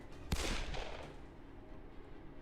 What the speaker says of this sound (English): the crack of a gunshot took the breath right out of me